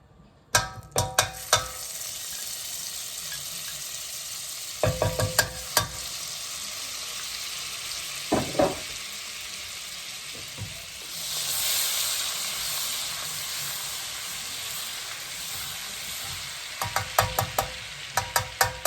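Half a stick of butter sizzling in a pan with garlic chicken breast, a continuous hiss and crackle with occasional clacks of utensils, swelling briefly into a louder steamy burst midway.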